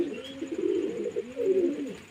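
Young pigeons, newly hatched birds kept in a loft, coo in low, rolling bursts, a close steady murmur rising and falling across two short phrases with no talk.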